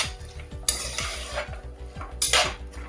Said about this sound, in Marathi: आता हे व्यवस्थित ढवळून घ्यायचं.